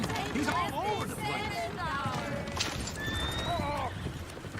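Horses whinny repeatedly and hooves clip-clop in the video game Red Dead Redemption 2, several overlapping neighs over a busy background with some talk.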